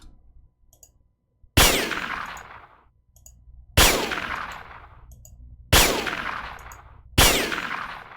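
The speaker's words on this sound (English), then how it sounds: "Can I just shoot the friggin' lock?" Four loud, sharp gunshots ring out one at a time with metallic, clanging decay in Jagged Alliance 2 as a weapon fires at a lock, spaced about two seconds apart after a short quiet start.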